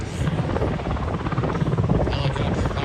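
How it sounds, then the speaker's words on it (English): Near and continuous, a helicopter hovers over the ocean during an airshow rescue demonstration at Cocoa Beach, Florida, its rotor producing a steady, loud, rhythmic chopping drone. "signaled the helicopter to return to the area"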